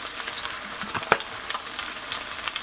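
A small splash of soy sauce added to hot oil at the side of a pan of fried rice, producing a continuous sizzle with a few sharp crackles and spatula taps.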